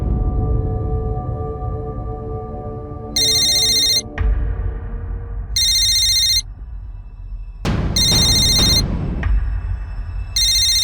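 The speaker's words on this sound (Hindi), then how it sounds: "विकी, फोन आ गया।" A phone rings in four repeated electronic bursts, loud and near, over a dense rumbling background of music and noise.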